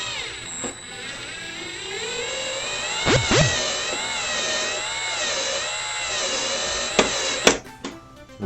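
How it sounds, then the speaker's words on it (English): A small electric screwdriver drives a machine screw to secure a servo arm on a model airplane, a steady whining motor hum with pitch wobbles, brief clicks and a stop near the end, close and without talk. "we're going to take the machine screw that it came with to secure the servo arm"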